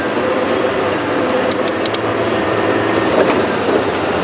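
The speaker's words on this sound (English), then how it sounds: "Try and keep my revs as low as possible" A safari vehicle's engine ticks over at low revs on a morning game drive at Djuma Game Reserve, a steady low rumble filling the background with a few faint bird chirps above it.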